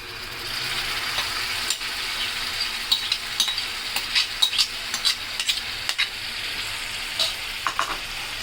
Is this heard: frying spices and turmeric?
yes